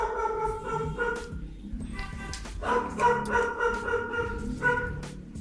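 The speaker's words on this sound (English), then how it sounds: "I think I might be upsetting that dog" An angry dog in the Philippines barks repeatedly, with yapping, whining barks in an uneven rhythm at close to moderate distance over steady background noise.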